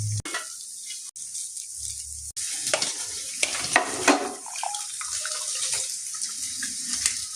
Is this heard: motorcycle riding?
no